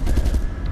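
Gunfire from a character shooting at the ceiling in the video game Resident Evil Revelations 2: a quick string of three or four close, loud shots over a low rumbling background, with no talking.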